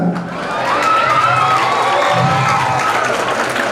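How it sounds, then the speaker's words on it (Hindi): Children at a certificate distribution clap for themselves, loud dense clapping mixed with cheering and high shouting voices throughout. "अपने लिए भी तालियां बजाना चाहिए ना"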